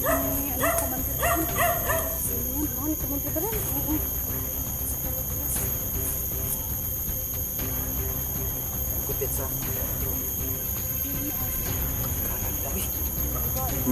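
Several dogs bark in a rural setting during a tense standoff, yips and barks scattered through a steady chorus of crickets and insects, with voices talking intermittently over the continuous outdoor noise.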